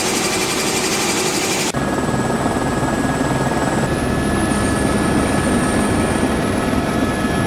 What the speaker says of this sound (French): je vous mets le son que ça fait, c'est beaucoup moins brillant que le premier hélico